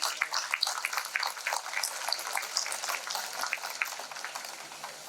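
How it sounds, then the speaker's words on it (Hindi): Crowd applause at a university national book fair in Bundelkhand, a thick crackling patter of many hands clapping at moderate level, continuous throughout with no speech on top. "तो हम सबसे पहले तालियां बजाकर आपका वंदन अभिनंदन।"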